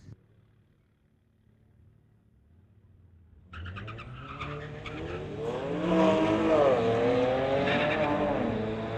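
Street-legal drag race cars at a track launch and run down the strip, engines rising from quiet into a loud rising roar with tire noise, heard from nearby.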